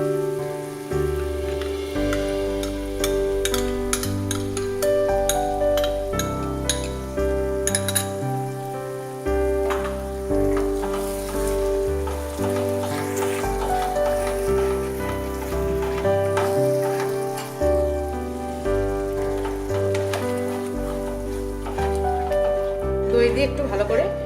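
Sour yogurt hits a sizzling spiced masala in a pan for a Bengali-style prawn curry. A steady, crackling sizzle runs continuously beneath louder background music.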